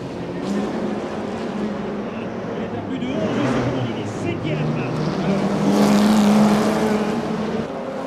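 1950s sports racing cars, some with engines over 3 litres, race around the Monaco circuit, their engines droning steadily and swelling as they pass nearby. Commentary runs over the engine noise.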